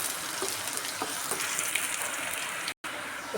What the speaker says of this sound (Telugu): ఇందులోకి ఎండుమిర్చి, ఆనియన్ వేస్తే పప్పు టేస్ట్ బాగుంటుందండి. ఆనియన్ కూడా మంచిగా వేగనివ్వాలి